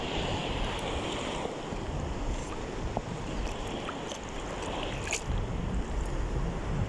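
Big ocean waves surge and crash near the shore in a steady, loud broadband roar, with wind buffeting the microphone throughout.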